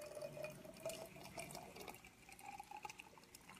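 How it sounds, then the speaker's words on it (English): Hot water poured into a glass tea travel mug, a faint, quiet trickling and filling sound with light splashes over about three seconds. "Just gonna pour off some hot water in there."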